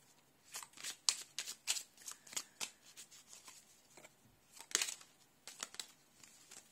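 A deck of fairy oracle cards is shuffled close up, with quick bursts of crisp riffling and slapping in an uneven series, alone and fairly quiet.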